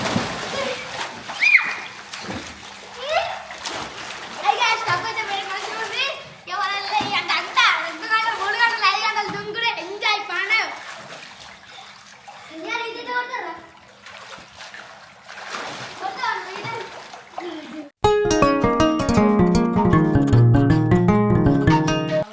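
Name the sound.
children jumping and splashing in a swimming tub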